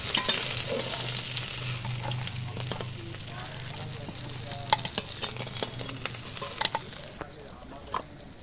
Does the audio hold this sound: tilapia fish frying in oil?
yes